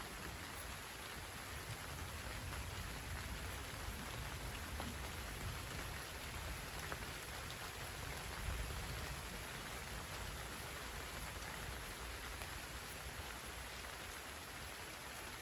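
Steady heavy rain pours down during an evening summer thunderstorm, a dense continuous hiss of drops with no clear thunder claps, heard alone without talk throughout.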